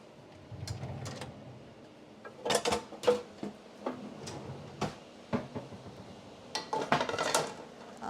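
A large metal skillet is pulled out and set down on a stove, making a series of clanks, scrapes and knocks at close range, with bursts of clatter near the middle and end.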